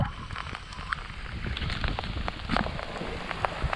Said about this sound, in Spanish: Y con lluvia.